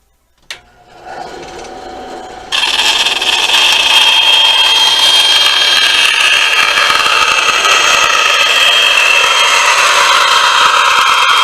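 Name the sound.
power tool cutting kydex holster bottom piece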